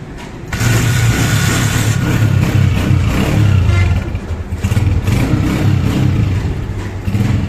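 A newly bought motorcycle engine runs close by and loud after being started, revving in surges with a brief dip in the middle. A faint voice is barely present.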